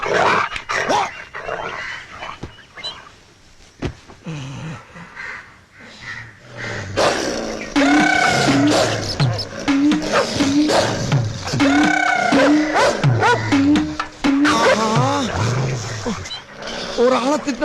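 A dog barks in a rapid, loud run of close barks that dominates the second half, with people talking over and between them.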